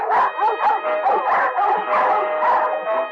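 Two Doberman guard dogs bark at a seaside kennel in a radio drama, giving a loud, close series of rapid, overlapping barks and yips across a few seconds with no speech.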